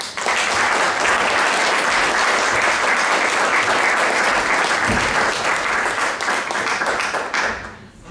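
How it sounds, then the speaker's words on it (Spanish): A university audience in La Paz gives a strong, sustained round of applause to welcome a guest speaker, loud and dense for about seven seconds before fading out. "La recibimos con un fuerte aplauso."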